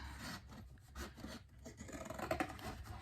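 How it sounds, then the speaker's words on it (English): Scissors snip and rasp through a stuffing mix package to cut out its printed directions, a few close, dry cutting strokes in a quiet room. "Get some scissors. Okay, let me cut out my directions."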